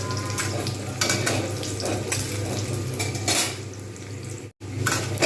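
Onion frying in oil in a pan while a Bengali vegetarian jackfruit curry is cooked. Steady sizzle sits under frequent metal utensil scrapes and clinks from stirring, close and fairly loud, with a brief dropout near the end.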